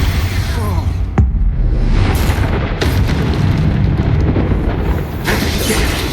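Bombarda explosion spell cast in the Hogwarts Legacy video game, a loud sustained booming blast with rumbling debris and whooshing bursts filling the whole stretch.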